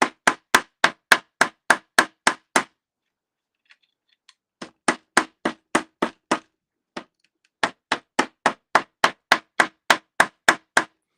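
A hammer strikes a jewelry chain resting on a board in fast, evenly spaced sharp taps, close and loud, in three runs separated by short pauses with a few stray light ticks.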